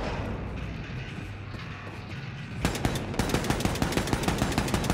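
Rapid automatic gunfire in Wolfenstein 2: The New Colossus, set in New Orleans, bursts in after a few seconds of low game ambience as loud, evenly spaced shots ring out close up.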